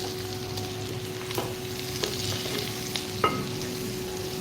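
Chicken fry sizzling steadily in a pan, a soft constant crackle with a few light clinks of stirring, faint and without speech.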